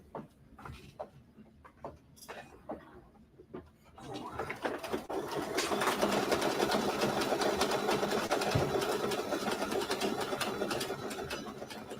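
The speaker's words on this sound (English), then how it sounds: "let me thread it and stitch that down" An embroidery machine starts up and runs a fast, steady stitching rhythm, tacking down a quilt piece for a Christmas quilt project, loud and continuous after a few quieter handling clicks.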